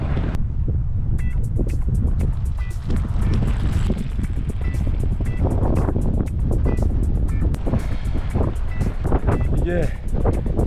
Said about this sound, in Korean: 뒤에서 바람 불어지니까 쭉쭉 나가고 있습니다